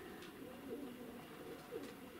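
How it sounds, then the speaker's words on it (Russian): A pigeon coos softly twice in low, rolling phrases, faint against a steady outdoor background hum. "Вот он, голубь опускается."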